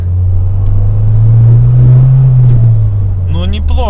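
A Mercedes W202 engine running after an ignition coil replacement, a loud steady low droning hum up close that swells slightly mid-way, with a voice speaking briefly at the end.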